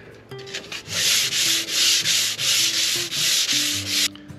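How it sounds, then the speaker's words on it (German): Rhythmic sanding, a steady series of about eight scratchy strokes rubbing back and forth, close and fairly loud. "das Schleifen ist fertig"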